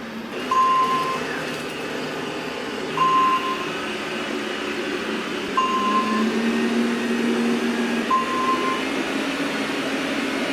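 A Roborock S5 Max robot vacuum hums and whirs steadily, with a short high beep sounding about every two and a half seconds as the power level steps up.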